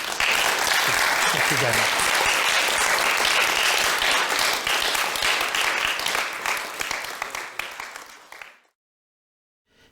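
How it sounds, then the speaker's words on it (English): A lecture audience breaks into sustained, dense applause that fills the room, then fades over the last seconds and stops abruptly; someone briefly speaks over the clapping. "So, so perhaps we'll give him a round of applause."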